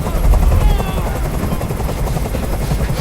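A helicopter hovers close by in the game Detroit Become Human, its rotor chop loud and continuous, with a deep thumping pulse and steady engine whine throughout.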